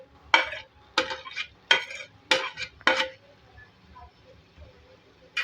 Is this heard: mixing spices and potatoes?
yes